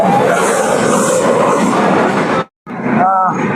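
A steady loud rumble and rush fill a moving Chitra Express carriage between Sirajganj and Dhaka, broken by a brief dropout before the noise returns with a short tonal whine.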